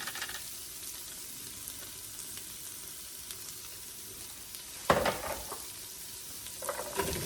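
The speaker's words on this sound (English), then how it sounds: "We're gonna add our onions." Onions hit a hot soup pot for chicken noodle soup and sizzle steadily, with a sharper burst of frying and clatter partway through as they land in the oil.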